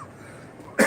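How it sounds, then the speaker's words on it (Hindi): A single sharp cough bursts out near the end, loud and close after a stretch of near-silence. "खांसी भी बहुत है आज"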